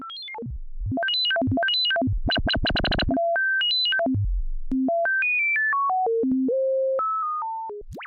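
A synthesizer tone in Ableton with sample-and-hold modulation jumps between held pitches in abrupt steps, first in fast sweeping runs and then in slower stair-like changes, loud and alone.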